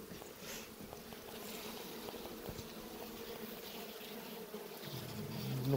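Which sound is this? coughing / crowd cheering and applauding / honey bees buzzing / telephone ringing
honey bees buzzing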